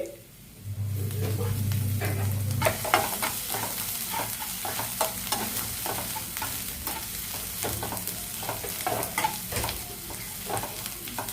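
Ginger and garlic frying in a pan, with a gentle continuous sizzle and repeated scraping stirs of a spoon at an uneven rhythm; a brief low hum sounds near the start, and there is no talking.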